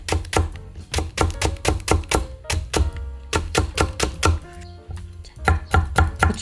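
A knife chops potatoes finely into thin half-moon slices on a cutting board, giving rapid, steady, crisp taps close up in quick bursts with brief pauses, no talking.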